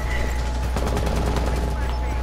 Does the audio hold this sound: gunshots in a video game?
yes